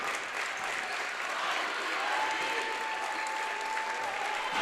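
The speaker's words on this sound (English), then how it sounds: "Buckeye Central crowd getting on their feet, saluting these young ladies for the incredible work they put in here tonight" Buckeye Central crowd on their feet at an Ohio girls' basketball regional semifinal, applauding the team with loud, sustained clapping that fills the gym and holds steady to the end, a voice faintly beneath.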